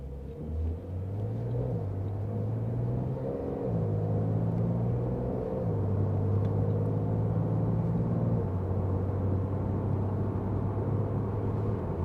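A 2020 Porsche Carrera S pulling away in first gear, its engine rumbling steadily and rising in pitch through a long smooth acceleration, heard from inside the car with no talk.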